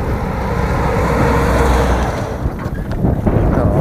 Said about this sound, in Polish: Przyzwyczaiłem się do wiatru.